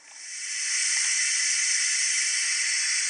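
Bachmann NG7 model steam locomotive sound effect playing a steady, loud hiss of steam that swells in over the first half second and then holds constant, with no talk.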